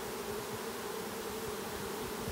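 A swarm of honeybees fanning inside a box, a steady dense buzzing drone, close and continuous with no voices.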